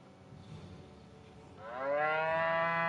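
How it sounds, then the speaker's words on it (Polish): A cow in the South Park video game lets out a loud, drawn-out moo midway after a stretch of quiet game ambience, holding to the end. "zbadaj krowę"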